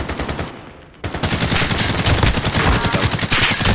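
Loud rapid automatic gunfire in a Call of Duty game, a burst of closely spaced shots near the listener that opens after a short quieter lead-in and then runs continuously to the end.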